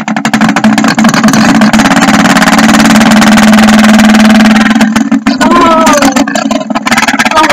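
A spin art machine's motor running as paint is added, a loud, close, steady whirring hum that stutters briefly near the end.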